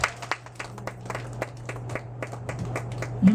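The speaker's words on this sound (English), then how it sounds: "Clap for this." Congregation clapping at a church sermon, a steady run of individual sharp claps from a small crowd heard nearby, with a low hum underneath.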